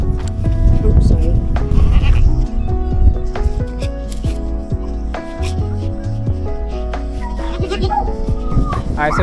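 Goat kids on a working farm bleat loudly and repeatedly, close by, with a person talking over the noisy, overlapping calls.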